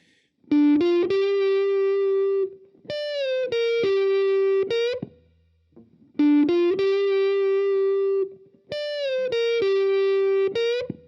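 Distorted electric guitar plays the first phrase of the solo: a bent note muted in midair, quick notes and sustained held tones, played twice with a brief gap between, loud and unaccompanied.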